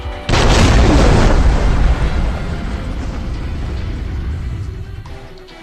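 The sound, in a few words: explosion in the video game Army of Two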